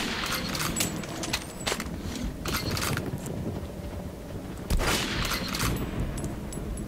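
Gunfire in the video game Metro: Last Light: bursts of rapid shots in uneven clusters with short pauses between, loud and sharp over a rumbling game background.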